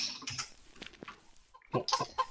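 Chickens clucking in the video game VoxeLibre, a few short quiet clucks and squawks in scattered bursts, with a brief pause in the middle.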